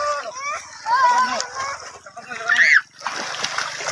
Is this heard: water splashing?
yes